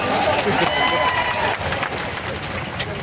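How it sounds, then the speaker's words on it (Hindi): Loud sustained applause from the audience at a political rally in Bhilai, Chhattisgarh, a dense wash of clapping and crowd noise that fades slightly toward the end. "देवेंद्र यादव के लिए जोरदार ताली मारो"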